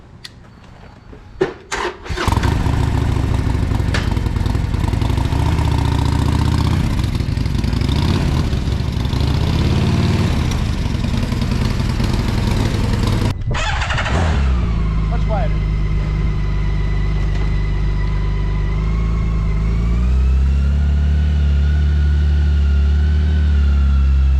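A Harley-Davidson Sportster motorcycle engine in a dusty garage fires up and runs loud and steady, idling with a deep rumble and occasional revs; talk is heard in the background.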